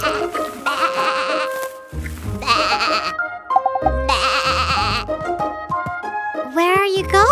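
Sheep bleating in a children's cartoon, a few high, wavering cartoonish bleats alternating with bright playful music and sound effects, with a voice speaking between them.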